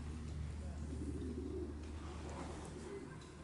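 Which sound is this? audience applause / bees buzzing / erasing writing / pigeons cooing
pigeons cooing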